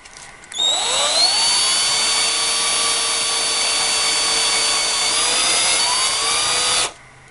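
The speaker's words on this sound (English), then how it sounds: "I will make it bigger with a bigger drill bit" A larger drill bit enlarges a hole in an L-shaped metal piece with a flange, inside a Korg MS-20 synthesizer; the close, loud, steady whine runs continuously for about six seconds, then stops abruptly.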